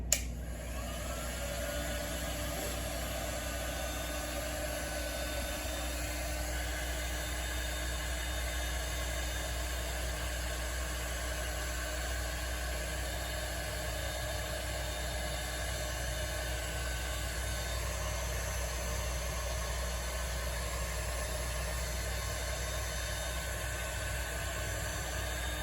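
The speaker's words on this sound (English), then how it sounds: "I'll heat the shrink tube up here and then let it cool off after it's done tightening up." A heat gun shrinking marine-grade heat-shrink tubing on fuel pump wiring for a 1973 Mustang, giving a constant loud airy whir with an even hiss that holds steady throughout, with no talk.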